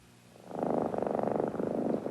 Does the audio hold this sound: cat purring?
yes